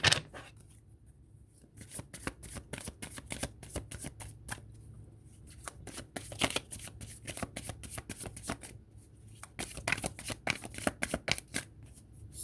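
A deck of tarot cards is shuffled by hand over and over, with rapid riffling and slapping bursts coming in quick uneven runs that stay close and clear.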